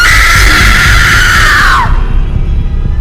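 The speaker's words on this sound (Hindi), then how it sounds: "आधी रात हुई तो मैरी की दादी को जोरों की चीख सुनाई दी" A loud, sustained scream at midnight in an animated horror story, one long piercing cry over a dense background that slowly falls in pitch before cutting off abruptly.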